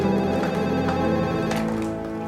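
Telephone ringing in a home, a continuous tonal electronic ring with sustained harmonic layers, fairly loud and steady, no voices over it.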